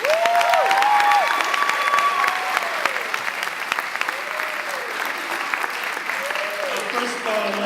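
Sustained applause fills the room for speaker Joseph Young Jr. at a Hartford Job Corps graduation, steady and dense throughout with a few whistles and cheers rising above it.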